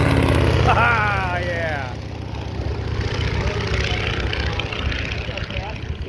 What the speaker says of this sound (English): Stearman flyby.